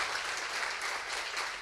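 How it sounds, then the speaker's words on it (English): A short burst of audience applause at an event honouring a top civil-service exam rank holder: steady, dense clapping from a crowd, heard alone without talk. "Can you have a big round of applause for him?"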